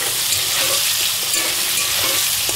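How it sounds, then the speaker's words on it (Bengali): Green chillies frying with potatoes, stirred in a pan, produce a loud, dense, continuous sizzle with faint spatula movements underneath, close up and without talking. "যেহেতু আমি ঝাল খেতে ভালোবাসি, তাই আমি কাঁচা লঙ্কাগুলোকে সরু সরু করেই কুচি দেবো, দিয়ে একটু নাড়াচাড়া করে নেবো।"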